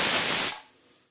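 A pressure cooker whistle releasing steam while cooking mutton paya, a loud sharp hiss that cuts off after half a second and trails into a faint fading hiss.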